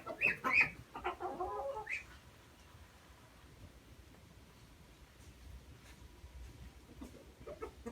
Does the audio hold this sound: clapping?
no